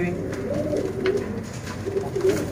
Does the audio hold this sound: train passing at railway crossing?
no